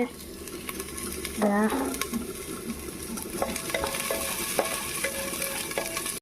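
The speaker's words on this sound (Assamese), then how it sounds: "সৰু সৰুকৈ কাটি ৰখা বিন আৰু গাজৰখিনি এড কৰি দিম" Chopped beans and carrots go into a frying pan of hot oil, setting off a steady sizzle with stirring scrapes and clinks of a spoon against the pan.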